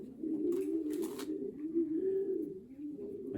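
A racing pigeon coos close by in a steady run of low, soft, rolling calls that continue without a break, with faint rustling and movement above them and no talking.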